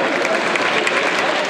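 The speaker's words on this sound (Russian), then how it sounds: "Ваши аплодисменты победителям." An audience applauding award winners at a dance competition, dense steady clapping that fills the room, loud and continuous throughout.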